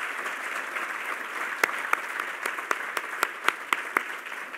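An audience at an innovation hall of fame induction ceremony gives a steady round of applause, a moderately loud wash of many hands clapping with a few sharper individual claps standing out.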